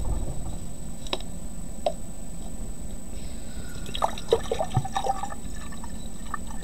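Liquid is poured into a jar with faint trickling and dripping, a few gurgles and splashes clustered toward the end over a low steady background hum, close by and without speech.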